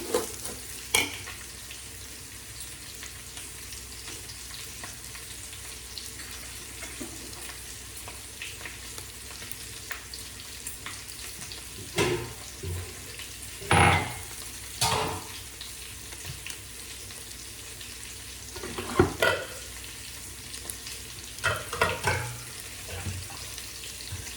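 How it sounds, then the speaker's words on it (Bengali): Rice grains being lightly fried and stirred in a pan give a soft, steady sizzle, with intermittent scraping and clattering stirs rising above it. "হয়ে গেছে বন্ধুরা আমার চালটা হালকা ভাজা, অনেকটা বেশিও ভাজা করবো না।"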